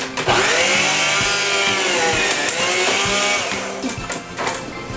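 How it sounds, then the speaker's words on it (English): A meat slicer shaves slices from a block of cheese, its steady motor whine running loud and close throughout, with repeated cutting strokes and a slight drop in intensity near the end. "Cut about 4 slices, then I rotate the cheese so that it doesn't start getting an awkward angle on it, and I cut more"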